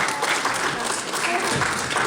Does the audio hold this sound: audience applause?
yes